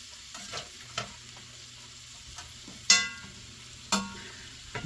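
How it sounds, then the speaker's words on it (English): Cabbage cooks in a cast iron skillet for colcannon, giving a soft sizzle and frying hiss broken by a few scraping stirs and clacks of a utensil against the pan, close up. "Go ahead and add in the cabbage. Cook this for 2 or 3 minutes"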